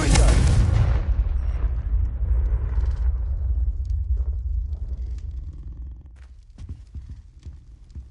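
A Confringo fire spell blasts in the Hogwarts Legacy video game, opening with a loud, deep explosion that rolls into a long rumbling decay, with faint scattered clicks and knocks as it fades.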